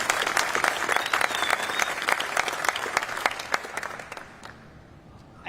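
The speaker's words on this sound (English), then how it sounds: "So let's give the mayor another round of applause." Applause for the mayor at a neighborhood development event in DC's Buzzard Point, a crowd clapping steadily at moderate distance for several seconds before thinning out and fading near the end.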